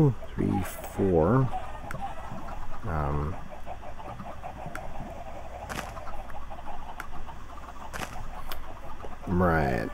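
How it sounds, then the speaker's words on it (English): Blocky Minecraft chickens cluck in short bursts in an automated paddock, several brief calls scattered across the scene while someone talks over them. "So this is the new automated chicken paddock."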